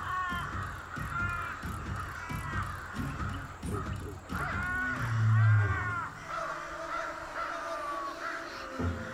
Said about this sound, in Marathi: हे एवढे कावळे येणं